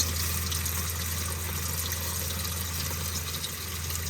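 Chlorinated water runs from an RV sink faucet during sanitizing of the water lines and tank, a steady close hiss and splash that continues without a break and with no speech.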